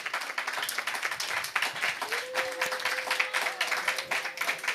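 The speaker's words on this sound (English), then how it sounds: "Let's give a hand of applause to them for the last time." Audience clapping for debate finalists at an inter-school debate championship, a fairly loud continuous burst of many hands with a faint tonal whistle or feedback tone running partway through.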